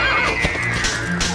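A horse neighs and whinnies in the Dragon Quest VIII video game, a short, loud, strained cry with faint hoof clatter underneath.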